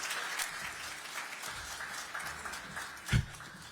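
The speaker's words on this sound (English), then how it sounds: "Please join me in a round of applause for our very own Mr." An audience at a Pittsburgh downtown holiday event applauding to welcome Santa Claus, a soft, fairly distant spread of clapping that continues evenly, with a single sharper thump near the end.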